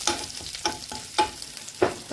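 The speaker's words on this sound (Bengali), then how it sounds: "আমি একটু নেড়ে নেব" Chopped garlic frying in oil left over from frying chicken pakoras for chicken 65, a steady sizzle punctuated by several distinct spoon strokes against the pan, close and clear with no talk.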